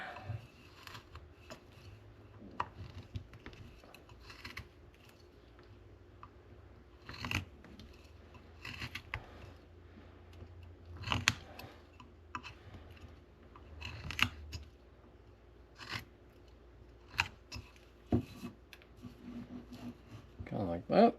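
A knife carves a V cut into wood to shape the beak of a carved cardinal, giving soft, scattered scraping and snicking cuts at an irregular pace, quiet and close.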